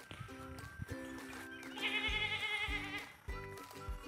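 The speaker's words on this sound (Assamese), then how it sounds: "এইবোৰ ছাগলীয়ে পেপেকে চিঞৰি আছে" Goats bleat repeatedly at a rural homestead beside a garden of trees, several harmonic calls overlapping at close to moderate distance, one long wavering bleat in the middle, with no talk.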